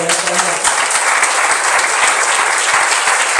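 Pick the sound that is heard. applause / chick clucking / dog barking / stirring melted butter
applause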